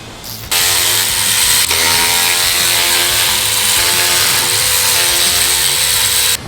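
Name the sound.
power tool removing lower bolts with 10mm socket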